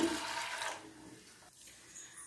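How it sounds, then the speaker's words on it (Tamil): A tumbler of water poured into a pressure cooker holding toor dal, giving a brief close splash that quickly fades to a quiet trickle. "நான் 1 டம்ளர் தண்ணி சேர்க்குறேன்."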